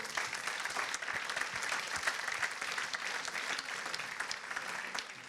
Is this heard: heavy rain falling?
no